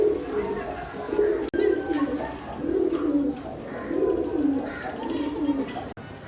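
Pigeons at a pigeon farm, repeated soft rhythmic cooing in steady rounds from birds close by, with someone talking quietly in the background.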